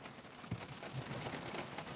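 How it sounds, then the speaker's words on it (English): Rain falls steadily outdoors, a dense hiss of drops on surfaces with a few louder splatters, picking up in intensity with no voices. "That rain's picking up again."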